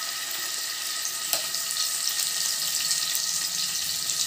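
Chicken pieces crackle in a pan of oil over a low flame, giving a continuous bright sizzle with a few sharper pops, close and without talk.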